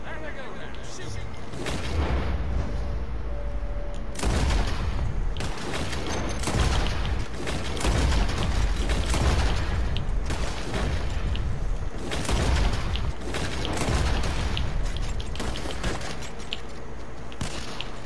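Gunfire in a shooting contest in the Red Dead Redemption 2 video game: sharp shots crack and boom in rapid, irregular bursts throughout, close and loud.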